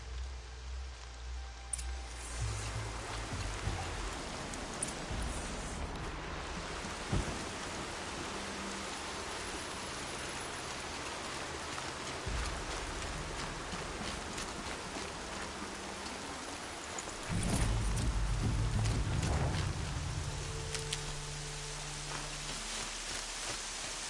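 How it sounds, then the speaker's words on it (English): Steady rain falls in the open world of the video game Horizon Zero Dawn, a dense, even hiss throughout with a low rumble swelling briefly near the end, and no voices. "Everything's sharp and looming in the rain."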